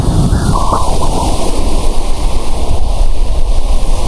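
At a Thai beach, sea waves roll in with a continuous loud rush while gusting wind buffets the microphone throughout.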